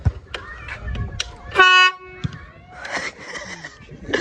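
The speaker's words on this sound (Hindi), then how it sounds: "तो भाई बताओ हॉर्न की आवाज कैसी लगी" A train-style horn fitted to a Hero Splendor motorcycle sounds one loud, harmonic blast of about a third of a second amid outdoor street noise and talk.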